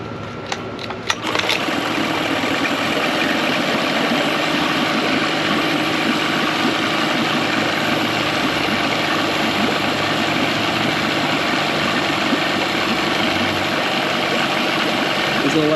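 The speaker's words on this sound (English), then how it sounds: "See on the first pull, the motor fired right up." An outboard boat motor fires on the first pull of its starter cord and settles into a steady, buzzing idle, loud and close, running continuously after a brief starting burst.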